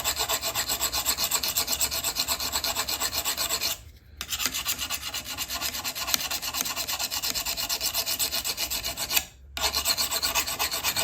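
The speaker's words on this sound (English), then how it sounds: "So these are some cheap diamond plates. Try that, a little bit finer, and it'll cut the material down." Continuous rasping as a lopper blade is rubbed back and forth across a cheap diamond sharpening plate, steady and close, broken by two short pauses between strokes.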